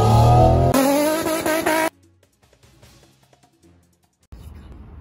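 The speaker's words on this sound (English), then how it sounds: "Listen to that turbo." A turbocharged sports car engine revs hard and loud, then cuts off sharply, leaving a quiet stretch before another engine rumble returns.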